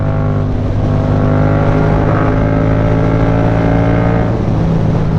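A Yamaha MT-07 motorcycle engine drones loudly and steadily up close, its pitch rising slightly as it revs, with constant wind rush and no talking.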